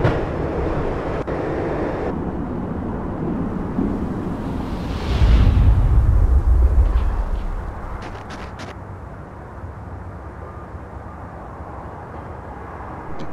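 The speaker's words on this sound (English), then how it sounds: "When the train he was riding slowed down" A train in the Max Payne video game rumbles low and steady, swelling into a louder heavy roar midway before easing back to a quieter drone as it slows, with no talking.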